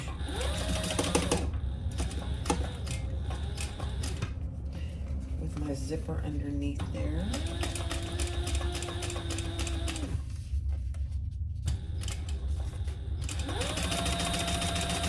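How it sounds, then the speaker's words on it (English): A sewing machine top stitches in steady bursts of rapid stitching, pausing between runs, while a person talks over it. "now I'm gonna turn that over and top stitch."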